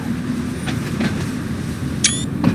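A Class 483 train in Train Sim pulls away from a pier on the Isle of Wight, with steady rolling rumble, scattered wheel clicks and a brief high squeal near the end, fairly loud and with no talk.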